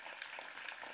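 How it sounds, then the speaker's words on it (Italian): Audience applause at an Italian forum talk, a brief steady wash of many hands clapping throughout the short moment. "applauso."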